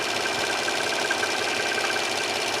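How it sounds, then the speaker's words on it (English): A serger overlock machine runs steadily, stitching and trimming fabric with a fast, even mechanical whir and a faint high whine throughout, close by with no talking. "notice how I'm cutting the fabric at this moment"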